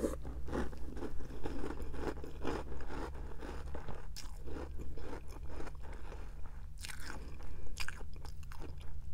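Crunchy Christmas cereal being eaten close to the microphone, steady crisp crunching and chewing with wet mouth sounds and occasional scrapes, continuous throughout with no talking.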